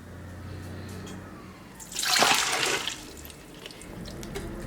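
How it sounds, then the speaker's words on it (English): Red peas pour from a container into a pressure cooker holding water for Jamaican red peas soup, a brief splashing, rushing pour that swells and fades in the middle of a quiet kitchen. "pour in your peas"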